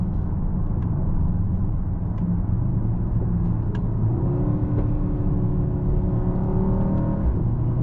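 A 2025 Mercedes-AMG GLE 63 S Coupe with a 603 hp V8 cruises on country roads, heard from inside as a steady, low engine rumble and road drone with faint rising engine tones.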